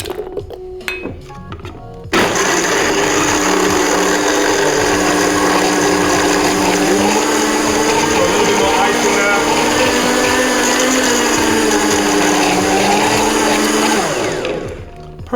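An electric blender whirs steadily at full speed through a piña colada mix for about twelve seconds, loud and continuous, after a brief clatter at the start and before winding down at the end.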